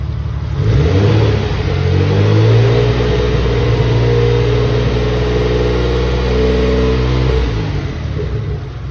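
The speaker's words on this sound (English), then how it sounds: "Engine sounds pretty good." A Mitsubishi 3000GT VR4's newly installed engine catches on its first start and revs, climbing and falling in pitch a few times before settling, loud and close, with no voices.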